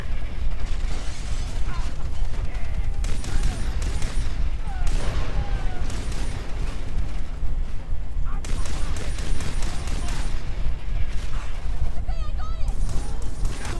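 Gunfire and mechanical action sounds from the video game Far Cry 3, dense and continuous bursts over a busy game soundscape, with people talking at times.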